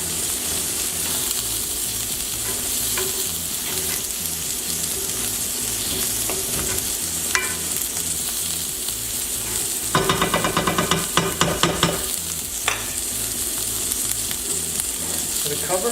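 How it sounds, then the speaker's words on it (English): Cooked rice being mixed with cilantro in a hot pan, a loud constant sizzle with a busy burst of spatula scraping and clattering in the middle. "We're going to add half the cilantro. Mix together."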